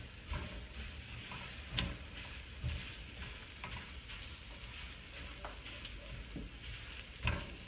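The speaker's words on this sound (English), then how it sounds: "Scrape up the sides so that all the egg can get in." Scrambled egg stirred and scraped around a frying pan with a gentle sizzle, soft scraping strokes and occasional light clicks of the utensil against the pan, steady and fairly quiet with no talking.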